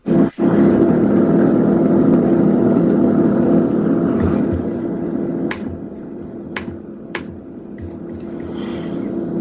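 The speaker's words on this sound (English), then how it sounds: "it sounded like there was a bus going by" Loud, steady rumbling background noise like a bus passing, filling the whole stretch with a broad roar that eases slightly partway through, broken by a few sharp clicks, with no talk over it.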